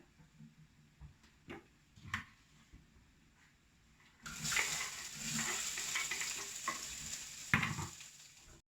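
Cumin seeds crackle and pop in hot oil in a home kitchen, a quiet stretch with a few isolated ticks giving way to a louder, steady sizzle with scattered sharp pops.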